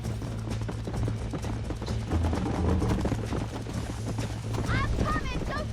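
A horse gallops in Red Dead Redemption, a steady rapid clip-clop of hooves under rushing wind, with speech and other game sounds mixed in throughout.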